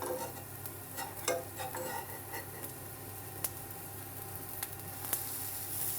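Pesto pumpkin pancake frying in a pan just after being flipped, a steady soft sizzle with a few faint clicks and taps of a utensil, no talking.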